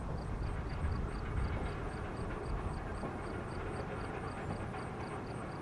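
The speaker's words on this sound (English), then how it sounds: "Here's a look at a train fresh from the mine with raw ore." A freight train hauling raw iron ore from the Babbitt mine rumbles past, a steady low continuous roar of rolling cars with a faint repeating high squeal, moderately distant and without voices.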